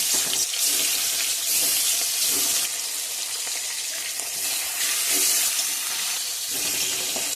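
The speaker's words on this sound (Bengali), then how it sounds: "তেল গরম হয়ে গেছে, মাছগুলো লাল লাল করে ভেজে নেব" Fish sizzles in hot mustard oil with a loud, dense, hissing roar close by, steady throughout with slight surges, like heavy frying.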